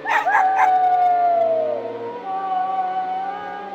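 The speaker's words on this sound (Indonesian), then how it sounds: "suara lolongan anjing yang terdengar makin cepat dan makin keras" A dog howls in one long, drawn-out, wavering cry that slides gradually downward, loud and close, with no talking.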